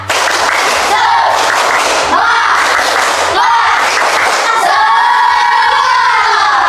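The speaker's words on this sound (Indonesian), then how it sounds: "Tepuk semangat." A fifth-grade Indonesian primary class performs a rhythmic spirit clap, loud repeated bursts of group clapping in a patterned beat, with children's voices chanting along and carrying on near the end.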